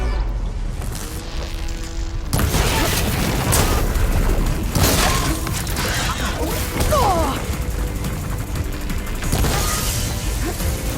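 Canister explosions and combat blasts in Horizon Forbidden West, a dense run of loud booms and crashes layered over game music and effects, with shouted game voices over the action.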